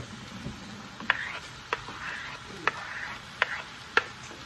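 A knife cuts cherry tomatoes in half on a board in a kitchen, five or six sharp, separate taps spaced about a second apart over a soft background hiss.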